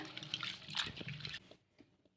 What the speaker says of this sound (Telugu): ఈ వాటర్ అంతా వంపేసుకొని ఇవి కూడా నానబెట్టేసుకుందాను